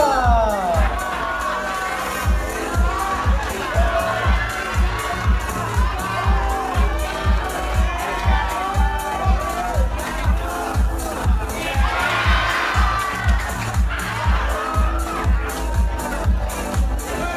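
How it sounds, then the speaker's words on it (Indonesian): A large school audience at an arts show claps and cheers nonstop, loud and close, with children shouting and a dense babble of voices throughout. "Tepuk tangan yang meriah."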